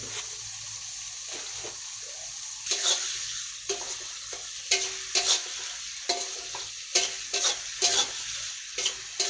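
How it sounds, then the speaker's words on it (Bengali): Onions frying in oil in a pan for a salted hilsa dish with potatoes, a steady soft sizzle broken by repeated scraping stirs at a regular pace, close and moderately loud with no talking. "পেঁয়াজটা একটু লাল লাল করে ভাজা হোক।"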